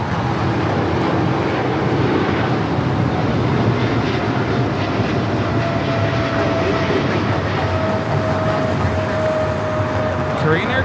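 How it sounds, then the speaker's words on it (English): A DHL Boeing 777 freighter passes overhead near Los Angeles International Airport, its jet engines producing a loud, sustained broadband roar with a steady whine, continuous for about eleven seconds. "We have a DHL 777 freighter about to fly over us."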